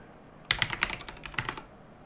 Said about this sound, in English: Go ahead and type in your address.